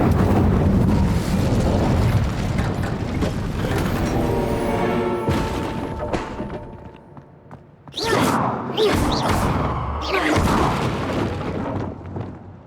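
Incendio fire spell cast in Hogwarts Legacy, producing loud, full booming bursts of flame with a sharp whooshing attack. A dense roar fades midway, then fresh crackling blasts flare up.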